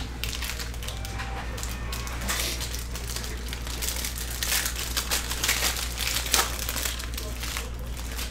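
A Bowman baseball card pack is ripped open up close, giving a continuous crinkling and tearing of foil wrapper that runs steadily throughout.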